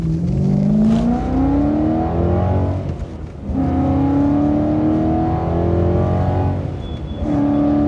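A BMW E92 M3 engine revs up in steady, rising pulls, dips briefly, then climbs again, loud and close, with no voices.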